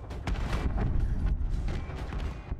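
Video game explosions after cargo is jettisoned, a dense run of rumbling booms and blasts going off one after another at close range.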